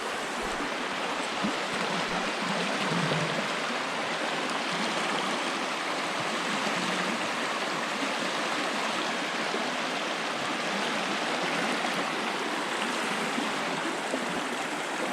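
Lepper Brook, a wide, deep stretch of woodland brook in its watershed, rushes with a steady, unbroken wash of flowing water, close and constant throughout with no voices.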